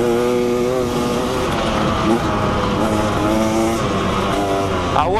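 An enduro motorcycle engine revs and drones continuously, its exhaust buzzing loudly and close throughout, with pitch rising and falling as the rider works the throttle.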